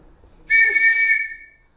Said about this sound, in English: It's called a metropolitan whistle. It's also called a bobby whistle because officers over there are called bobbies.